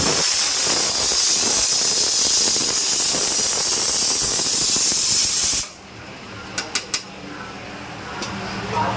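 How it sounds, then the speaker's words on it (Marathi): A rice pressure cooker on the stove releases a loud, steady hiss of steam for several seconds, then cuts off abruptly, leaving a quieter room with a few short clinks afterward. "ते भाताचं कुकर आमचा आता होतोय चालू आहे"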